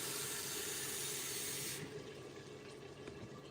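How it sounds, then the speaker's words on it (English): Water pours steadily from a tap into a pot of cooking ground beef, a loud continuous rush that cuts off partway through, leaving a quieter background hiss. "It's gonna add 2 cups of water."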